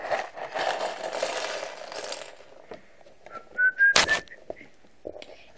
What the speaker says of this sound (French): Excusez-moi, je siffle,